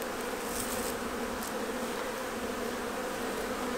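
Honey bees hum in a steady, dense drone around an open hive frame with emerging bees, continuous and close throughout.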